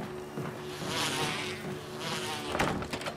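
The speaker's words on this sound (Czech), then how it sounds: "Ja počujem včely." A swarm of bees buzzes steadily in Resident Evil HD Remaster, a dense droning hum that swells and fades, with a few sharp knocks near the end.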